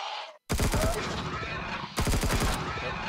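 Gunfire in the space survival game Empyrion aimed at a ship, two loud bursts of rapid automatic shots, the first long, the second shorter, after a brief silence.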